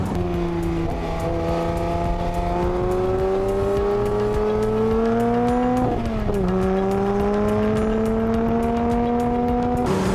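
A 2019 Porsche 911 Speedster engine revs loud and close, its tone climbing steadily, dipping briefly at a gear change around the middle, then rising again without interruption.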